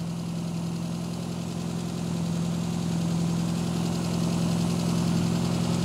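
An Austin A-Series engine idles in a mini rat rod, a steady close drone with a slightly high idle, continuous and even for several seconds with no voices over it.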